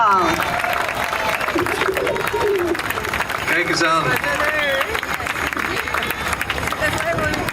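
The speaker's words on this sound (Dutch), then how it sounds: "Applaus voor Team Hollanda." Audience applause greets Team Holland, the Netherlands football team, at a children's World Cup 2026 event, heard as dense, continuous clapping and crowd noise beneath someone talking over it.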